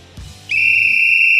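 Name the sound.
whistle blown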